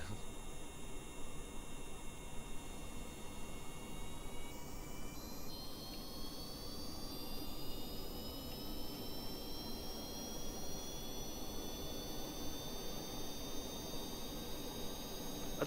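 A jet engine drones steadily at 3/4 throttle on a Kerbal Space Program aircraft, a continuous broad roar with thin whining tones that slowly rise in pitch as the engine spools up.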